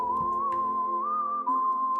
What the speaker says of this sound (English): That's all it does. It whistles.